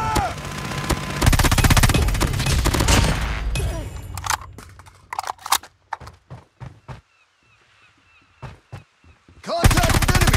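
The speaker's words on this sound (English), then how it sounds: "Sentry gun deployed." Sentry gun in Call of Duty Mobile gameplay, a loud sustained burst of rapid automatic fire that thins into scattered single shots, falls to near silence, then resumes with another heavy burst.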